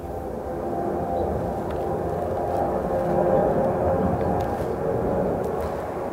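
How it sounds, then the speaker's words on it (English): A large military cargo airplane passes overhead, a steady, broad low roar that swells slightly and then holds, heard alone with no talking. "But now there's a damn airplane again."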